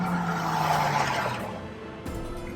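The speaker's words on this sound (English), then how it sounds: "Come on, little Nissan, you can do it." A small Nissan hire car is driven hard on a road in Mexico, with a loud tyre squeal and strained engine that fade out over about two seconds, followed by a brief thump.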